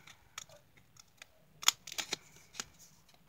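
Scissors cutting a sheet of vellum: a few sparse, crisp snips and papery crinkles up close, quiet and irregular, with no one talking.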